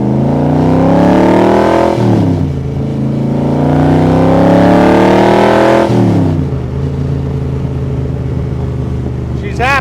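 A 2007 Superformance AC Shelby MKIII 427SC with nearly 500 horsepower roars loudly from inside the car, revving up through gears in repeated rising pulls with sharp drops at each shift, and a voice is heard over the engine.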